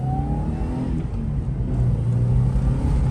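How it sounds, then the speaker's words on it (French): An old Subaru fitted with a new clutch drives along on a test run, its engine hum rising gently with a steady road whir from inside the car, with no talking. "on est en essai final de cette Subaru avec un nouvel embrayage"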